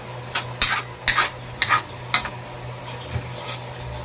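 A spatula stirs and scrapes pancit noodles with their mixed ingredients in a metal pan. About five bright, close scraping strokes come in a loose rhythm over a low sizzling hum.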